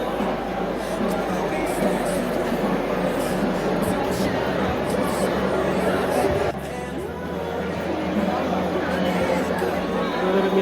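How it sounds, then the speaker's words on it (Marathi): Dense festival crowd chatter at Bhimthadi Jatra 2025 in Pune, a continuous close babble of many voices that stays loud and steady from start to finish. "मित्रांनो गर्दी बघा तुम्ही आता वाढत चालली"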